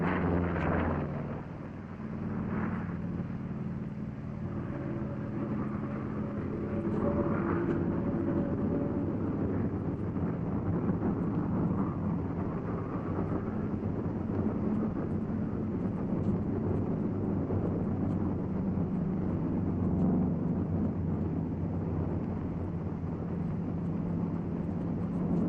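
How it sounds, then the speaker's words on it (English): A 1943 P-47 fighter plane rolls down the runway on takeoff, its engine giving a steady, throaty drone that builds slightly and holds against wind noise, with no voices. "You're flying your 47 down the runway."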